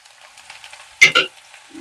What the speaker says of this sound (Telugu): ఆయిల్ వేడైంది ఇందులో ఉల్లిపాయలు వేద్దాం